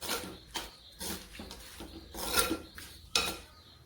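A spoon clinks and scrapes in a bowl while pineapple pickle ingredients, including jaggery, are stirred together, with uneven knocks and a few brighter clatters up close.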